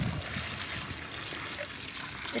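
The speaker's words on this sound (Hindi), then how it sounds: "इसमें डालना होगा हमें 5 लीटर पानी" Five litres of water pours steadily into a bucket holding chopped pieces for a homemade plant fertiliser, a continuous close, loud splashing gush with no pauses.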